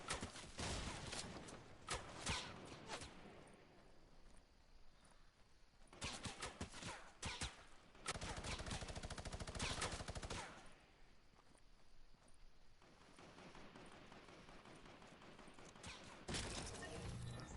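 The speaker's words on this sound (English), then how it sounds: "I don't know how, they're shooting me." Bursts of rapid gunfire in a Fortnite battle royale match, several clustered volleys of automatic shots separated by quieter stretches, heard without talk.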